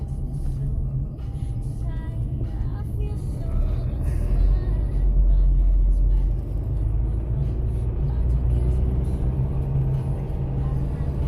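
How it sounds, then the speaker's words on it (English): A Mazda car towed behind a Jeep passes on a road near Melbourne Airport, heard as a continuous low engine and tyre rumble that swells to a peak midway, with general traffic noise around it. "Oh yes, it's a car on tow."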